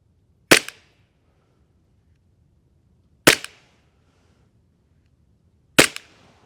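Three sharp Glock 19X pistol shots fired at a target from about ten feet, spaced a few seconds apart, each a loud crack with a short decay and silence between.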